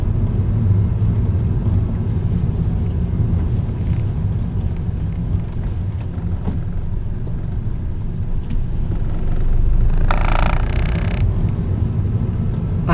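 A manual-transmission car rolls at very slow speed with no clutch, its engine giving a low continuous rumble and judder heard from inside the cabin, with a brief burst of extra noise near the end.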